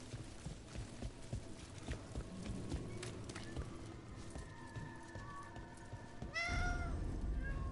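A cat meows in Dragon Age: The Veilguard, a clear rising call near the end heard over a busy game ambience of footsteps and hoof-like clopping.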